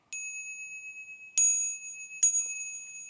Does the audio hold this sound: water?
no